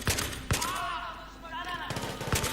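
Gunfire from Battlefield 3 comes in sharp, close bursts at the start and again near the end, with a voice speaking in the quieter gap between them.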